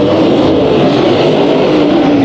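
Loud, sustained engine roar of race cars speeding around Bakersfield Speedway during a night heat race, a steady droning pitch that rises slightly as they push on, with no break.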